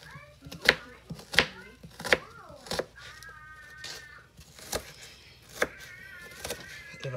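An onion is chopped on a cutting board in a home kitchen, several sharp knife knocks at an uneven pace, with a cat meowing in between.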